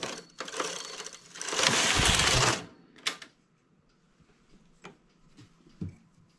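A knitting machine working on a double-sided hat, its carriage making a loud whirring run at mid-clip followed by scattered clicks and clacks, close and with no talking.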